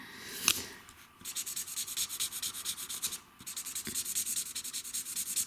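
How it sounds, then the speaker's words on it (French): Twinmarker felt-tip markers coloring on paper, a close, rapid back-and-forth scratchy rubbing of the tips in quick regular strokes, broken by a couple of brief pauses, with no talking. "C'est vraiment un régal de colorier avec ces marqueurs."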